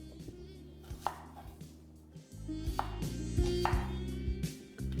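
Onions are roughly cut into small pieces with a knife, giving close, irregular thuds of the blade striking a cutting board over about five seconds, without talk.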